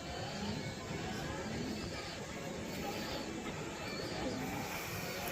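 Pigeons coo softly in a home loft, their low murmurs blended into a steady wash of broadband background noise with no clear separate calls standing out.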